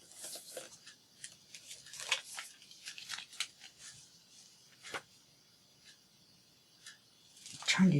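Scissors snip through a very thin acetate sheet along a marked line, producing a series of soft, close clipping strokes. The cuts come in uneven bursts with quiet pauses between them, and a louder rustle of handling follows at the end.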